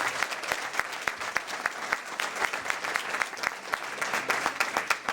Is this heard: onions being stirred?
no